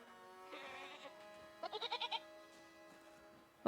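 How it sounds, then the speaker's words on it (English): A goat in a video game bleats twice, a drawn-out call followed by a quick wavering series of bleats, clear and close over a quiet background. "Oh, am I supposed to find a missing goat?"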